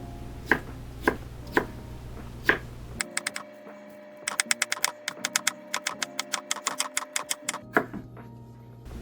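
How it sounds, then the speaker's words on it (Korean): A knife cuts potato into thin strips on a cutting board, a few separate strokes followed by fast, steady bursts of sharp taps against a low background hum. "감자채를 썰어서 준비해 주세요"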